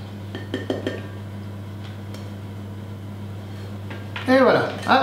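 Metal tart tin and wire rack clattering as a tarte Tatin is flipped onto a plate, a few soft clinks early then a louder scraping clatter near the end, over a steady kitchen hum.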